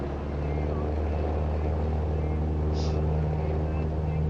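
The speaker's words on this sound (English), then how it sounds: "All right, here we go. Full throttle." Small propeller airplane engine roaring at full throttle for takeoff from a small airfield runway, a loud steady drone filling the whole clip with a brief faint tone partway through.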